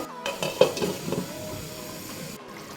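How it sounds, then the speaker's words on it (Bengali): A pot of fish and potato curry is stirred, with a few close scrapes and knocks of a spoon against the pan over a low simmering hiss, then quieter bubbling. "মাঝে মাঝে এইভাবে একটু পাতিলটাকে নেড়ে দিবেন"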